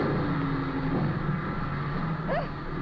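A seaplane touches down on water in a radio drama sound effect, a loud, steady rush of engine roar and water wash that runs the whole time with no voices.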